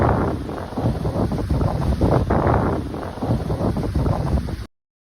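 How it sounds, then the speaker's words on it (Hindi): Strong wind gusting hard in the Himalayan hills near Nainital, Uttarakhand, a loud, steady roar with buffeting against the microphone that continues without pause, then cuts off abruptly near the end. "हवा की जो इतनी ज़ोर ज़ोर से आवाज़ आ रही थी, इतना अच्छा फ्लो था हवा का"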